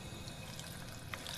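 Water running from a tap as a character drinks in the Fallout 4 video game, a soft steady trickle at low level with no speech.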